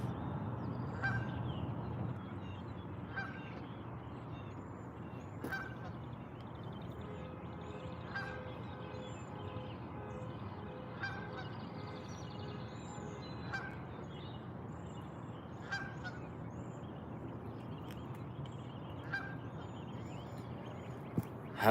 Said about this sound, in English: getting honked at by geese